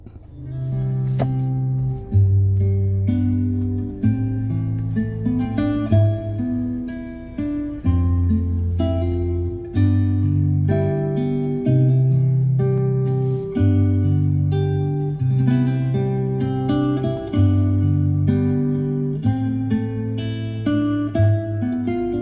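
Bass-heavy music plays steadily and loud through an upgraded Toyota Yaris Cross car audio system with a Venom subwoofer, deep repeating low notes under brighter melody and vocals, full and clear throughout.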